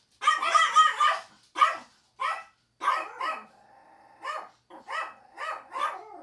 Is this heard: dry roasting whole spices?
no